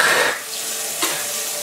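Cold water runs from a kitchen tap in a steady broadband hiss that starts loud and close, settles into a continuous rush, and briefly swells about a second in.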